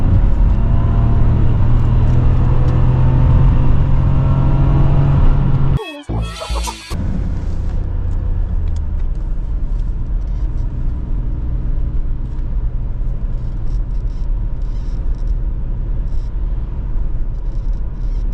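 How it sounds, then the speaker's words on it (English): A 1992 BMW E34 520i with an M50B20 engine and no VANOS drives along, a steady loud in-cabin engine hum with road rumble and a brief sharp knock near the middle. "we are driving this beautiful old school E34 from 92 with an M50B20 without any vanoses"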